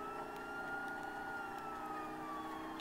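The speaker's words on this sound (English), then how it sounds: "I can still hear a siren." A video game police siren wails steadily in the distance, its tone sliding slowly downward over a constant background of engine and traffic-like noise.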